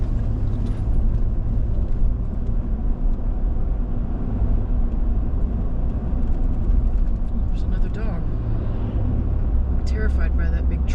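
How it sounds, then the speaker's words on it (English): A big truck rolls past on US 281, a heavy broadband road roar and low engine rumble that stays loud and steady throughout, heard from a moving vehicle. "Terrified by that big truck driving by."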